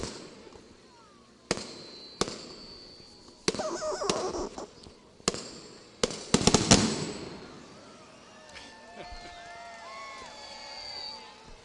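Fireworks at a Christmas tree lighting during a holiday celebration in Joliet: sharp, loud bangs and crackling bursts going off irregularly, then a distant crowd murmur with whistles and cheers carrying on in the background.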